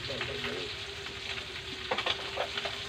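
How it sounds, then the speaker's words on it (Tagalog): Food sizzles and crackles as it fries in a pan, steady and fairly faint, with occasional clatters of stirring and a person speaking over it. "Nasunog na yung prito ko"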